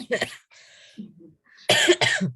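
A person coughs in a few sharp bursts, with a short wheezy breath between them.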